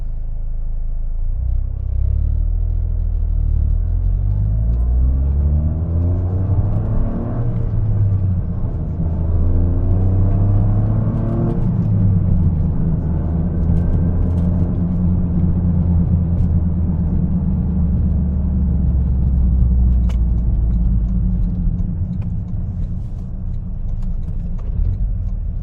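Toyota GR Corolla fitted with an upgraded pitch mount, pulling away from a neighborhood toward a main road: a steady, loud in-cabin engine drone that climbs in pitch through the gears, alone with no talking.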